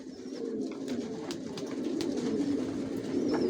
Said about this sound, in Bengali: ভিউয়ার্স দেখতে পাচ্ছেন এখানে সব অ্যাডাল্ট কবুতর